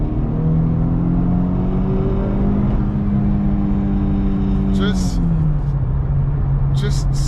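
A Honda Civic Type R FL5 engine hums loud and close at a steady note, then drops in pitch as it downshifts, with brief sharp clicks near the end.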